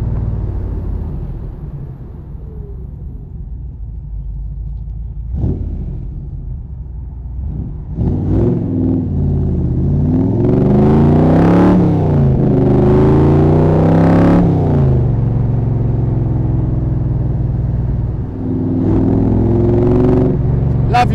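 Southern Roadcraft Cobra replica with a Rover V8 engine and Jaguar running gear, a deep burbling idle rising into loud revving accelerations with gear changes, heard from inside the car as it drives.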